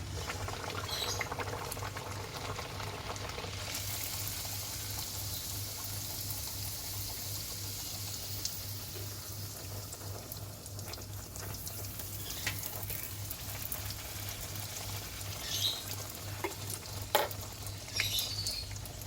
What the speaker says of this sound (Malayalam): ഇതേപോലെ ഇങ്ങനെ പൂരിയിട്ടിട്ട് പൊരിച്ചെടുക്കാം.